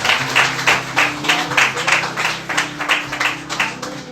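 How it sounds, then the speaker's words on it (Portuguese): A church congregation claps in rhythm, with regular beats about twice a second over a sustained musical tone or hum underneath. "Dê uma salva de palmas ao Senhor."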